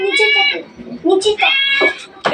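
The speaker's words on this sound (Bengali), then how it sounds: "বিড়ালের আওয়াজ শুনে থাকতে পারছে না। দেখো না, টিভিতে বিড়ালের ভিডিও চালিয়েছে" A cat meows repeatedly from a cat video playing on a television, several clear, fairly loud calls in quick succession, with people talking over and between them.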